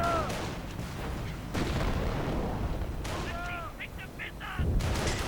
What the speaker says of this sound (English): And the howitzer firing right into this huge clump of Grenadiers.